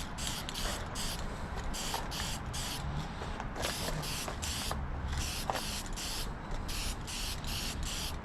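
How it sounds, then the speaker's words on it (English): Spray paint hissing from an aerosol can onto a car dash pad for a Chevrolet Caprice, repeated short bursts in an uneven rhythm, close and fairly steady. "This might be the nice slow spray pattern I needed anyway."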